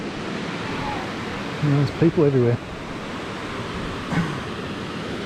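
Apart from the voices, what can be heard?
small waterfall flowing into a rocky pool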